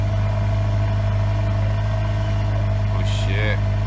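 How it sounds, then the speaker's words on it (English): A Honda inline four-cylinder car engine idles after a cold start with a steady low rumble throughout, close by, with a brief voice near the end. "This is a Honda inline four cylinder EXL. Yeah. Listen to that rumble."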